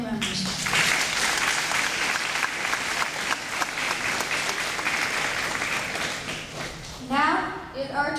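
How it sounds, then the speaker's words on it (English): A crowd applauds loudly and steadily for several seconds at a Grade 5 graduation, then the clapping fades as a voice begins speaking near the end. "A round of applause for all the parents"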